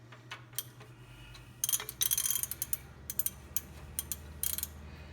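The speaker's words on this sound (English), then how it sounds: "Off with the vacuum thermal control switch." A wrench works the vacuum thermal control switch off the engine of a 1973 Mustang 302, giving a quick series of close, crisp metallic ratchet clicks in short bursts over a low steady hum.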